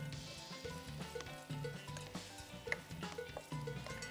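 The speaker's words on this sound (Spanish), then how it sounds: "Vamos a ir sofriendo un poquito la cebolla y el ajito" Onion and garlic sautéing in pork lard, a soft steady sizzle with light crackling, fairly faint and close, with no talking.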